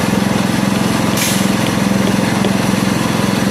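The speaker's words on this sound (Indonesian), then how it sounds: "Mobil ini sebagai mesin pompa untuk menyemprotkan semennya." A truck-mounted pump engine that sprays cement runs close by with a loud, steady, rapidly pulsing chug, a brief hiss rising over it partway through.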